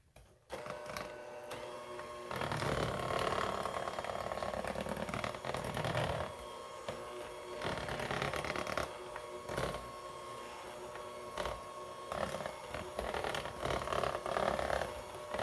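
Red velvet cake batter is mixed with a steady mechanical whirring that hums on for long stretches, pausing briefly and resuming, heard up close without speech.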